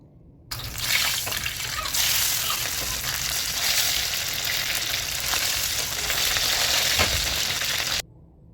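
Stuffed intestines (mombar) fry in a pan with a loud, close, continuous sizzle and crackle, broken by a few stirring clinks and spatters, then cut off abruptly near the end.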